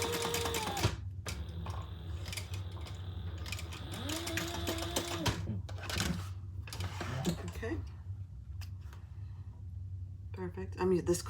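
A sewing machine stitches along the edge of a key fob wallet with caramel thread, short uneven bursts of whirring broken by clicks and pauses, close by, with someone talking intermittently throughout.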